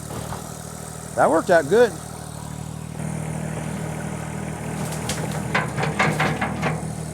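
A truck engine idles with a steady mid-range drone while pumping out an old septic tank, and someone speaks briefly over it. Clattering knocks and clanks come later near the equipment.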